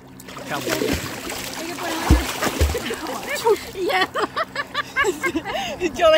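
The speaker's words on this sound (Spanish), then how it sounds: "¿Las lanchas? Sí, allá viene otra." Motorboats passing on a river or estuary, water splashing and sloshing against the hull with a steady engine hum, close by, while people talk over it in Spanish.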